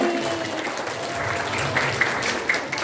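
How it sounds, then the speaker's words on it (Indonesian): Students at a junior high school orientation applaud together, a soft, diffuse patter of clapping heard at a moderate distance in a room, with a few sharper claps standing out near the end. "Tepuk tangannya mana dulu?"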